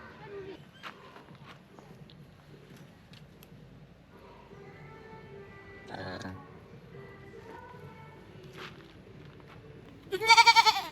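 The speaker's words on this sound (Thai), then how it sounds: "แพะ" Goats at the zoo of an amusement park in Saraburi give scattered soft bleats and creaky calls, then one loud, close, wavering bleat near the end, while people talk faintly in the background.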